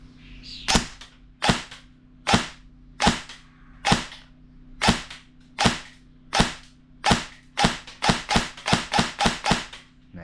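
Airsoft gun firing a string of sharp, loud shots, spaced roughly a second apart at first and then quickening into a faster run near the end, alone with no talk.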